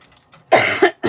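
A single person coughs close by, with one short harsh burst after a quiet breath and then a quick second cough, loud and dry in a quiet indoor room.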